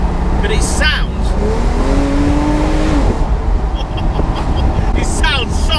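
Loud, close engine revving from a stock Porsche 997 911 GTS 3.8 litre, driven with the roof and windows down, pitch climbing through a gear then dropping, with heavy wind rush throughout.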